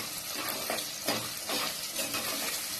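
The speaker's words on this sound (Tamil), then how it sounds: "எல்லாத்தையும் நல்லா வதக்கி விடுங்க." Small shallots with asafoetida sauté in hot oil in a pan, giving a dense, steady sizzle with brief swells as they are stirred, close and continuous.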